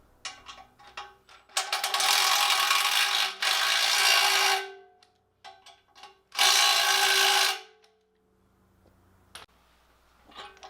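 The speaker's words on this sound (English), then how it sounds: "So it says to torque them to 110 pounds." Ratchet socket wrench tightening RV hitch bolts, two long loud bursts of fast ratcheting clicks close up, separated by quieter pauses with a few single clicks.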